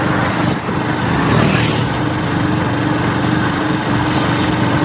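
A vehicle drives along a rural road to a friend's farmland in cool, rainy weather, giving a steady, loud engine and road rumble that runs continuously without a break and with no voices.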